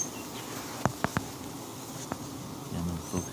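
Bees at the front entrance of a farm beehive, faint buzzing with a few sharp, brief buzzes as insects fly close past the microphone, over a quiet background.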